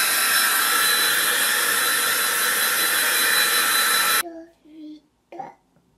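A hair dryer blows with a loud, steady whooshing roar for about four seconds, then cuts off abruptly, leaving a child's brief vocal sounds in the quiet.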